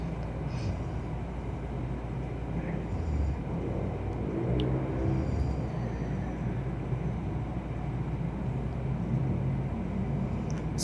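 Riding in a bao-bao tricycle on a trip back to Pagadian brings a constant low engine rumble and road drone, moderately loud and unbroken throughout.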